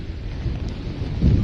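Heavy rain pouring in Mumbai during Cyclone Nisarga, a loud dense roar of broadband noise with deep rumbling swells that grow stronger toward the end, no voices.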